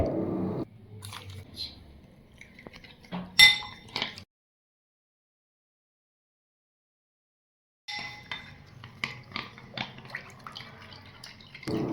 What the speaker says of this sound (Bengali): এতে দুই চামচ কাস্টার্ড পাউডার ভালো করে মিক্স করে রাখতে হবে